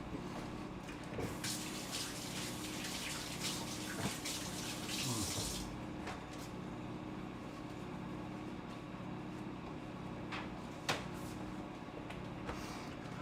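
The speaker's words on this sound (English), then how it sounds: "Wash my hands." Running tap water pours steadily while hands are washed at a kitchen sink, a continuous close splashing hiss with a few brief knocks and clatters.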